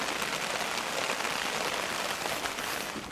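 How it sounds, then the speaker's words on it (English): Steady rain falls on a misty, foggy beach with the tide in, a dense continuous hiss that stays constant throughout, with no voices. "It's been raining since about 4 o'clock this morning, and so it's supposed to rain all day too"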